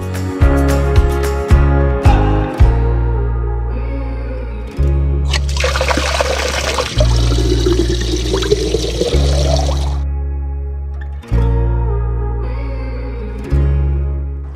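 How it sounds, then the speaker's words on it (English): Spring water pours into a bottle in a hidden valley in Ticino, a steady splashing trickle lasting several seconds over background music. "so I will fill my bottle of water"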